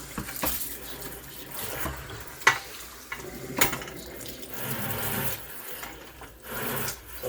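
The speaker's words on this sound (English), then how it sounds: "Rinse out my bucket." Water splashes and swishes around inside an old bait bucket being rinsed out, a steady running wash with a couple of sharp knocks, close by.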